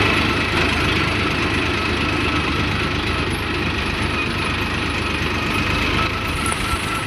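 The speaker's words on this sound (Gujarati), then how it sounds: "આપણે હવે ટ્રેક્ટર લઈને નીકળી ગયા" A tractor engine runs continuously at a steady, loud idle-like drone with a dense low rumble and mechanical clatter, close and unbroken throughout.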